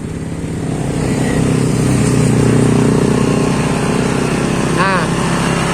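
A used Yamaha Mio Sporty scooter engine runs steadily at close range after starting, a continuous buzzing idle with a sticking throttle that keeps it revving, while someone talks over it.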